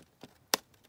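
Two quick, crisp snips of scissors cutting the bottom border off a paper envelope, the second louder and sharper, close up in a quiet room.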